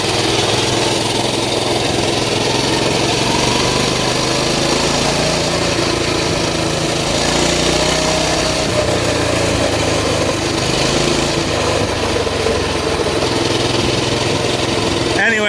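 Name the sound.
CT200U minibike engine running with replacement carburetor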